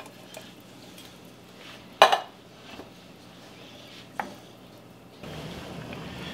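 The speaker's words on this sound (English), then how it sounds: "I'm going to add another can of beans that I did not puree to the chili." Beans tipped from a can into a pot of vegan white chili, with a sharp metallic clank, a few lighter knocks and a soft wet slide, then a steady low stirring rumble near the end.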